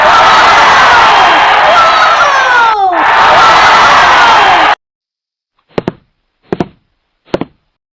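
Loud, continuous yelling and whooping voices sound close and raucous, with rising and falling shouts, then cut off and are followed by three separate sharp knocks.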